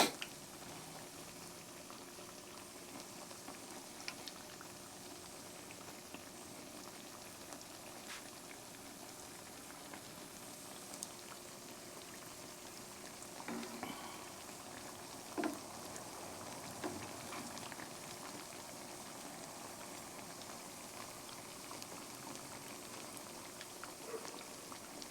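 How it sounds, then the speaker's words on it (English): Soft, steady sizzling and crackling of a corn fritter frying in a pan, faint and continuous with occasional small pops. "Hear that sizzle."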